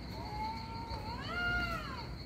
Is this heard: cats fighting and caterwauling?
yes